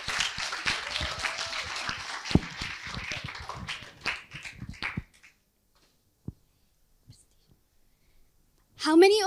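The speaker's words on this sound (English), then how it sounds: "Let's give a warm round of applause." A student talk audience claps for about five seconds, a moderate patter from a modest crowd that thins and stops. Silence follows, and a speaker then begins to talk.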